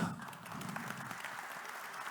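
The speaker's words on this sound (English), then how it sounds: "Please applaud our gold sponsors." A conference audience applauds its gold sponsors in a sustained, even patter of many hands clapping, moderately distant and with no speech.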